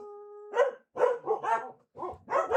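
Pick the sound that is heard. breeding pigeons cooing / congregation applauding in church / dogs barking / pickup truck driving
dogs barking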